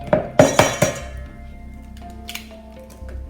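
Eggs are beaten in a glass bowl, giving several sharp, ringing clinks in quick succession, followed by fainter taps and scrapes in a quiet kitchen.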